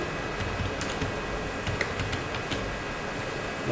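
Steady typing on a computer keyboard while entering dates into Google Sheets, a run of quick light key clicks with a fairly even rhythm, alone and close.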